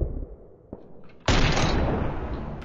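Gunfire in the PUBG video game on the Karakin map: a short sharp shot followed by a loud, sustained broadband blast or burst that fills the rest of the moment, close and heavy.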